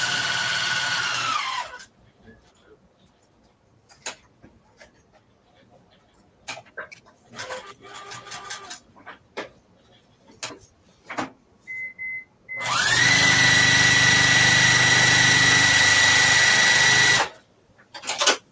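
A sewing machine stitches a tote bag strap. The motor runs in two sustained bursts, a short one at the start and a longer steady whir later, with scattered clicks, handling knocks and fabric rustles between them.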